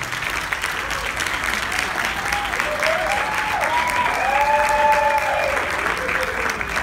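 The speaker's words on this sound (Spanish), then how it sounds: "Le damos una bienvenida y un fuerte aplauso" Applause from a conference audience welcoming a speaker at a Latin American and Caribbean drug policy meeting, a steady wash of clapping with faint tonal sounds and some crowd murmur drifting over it.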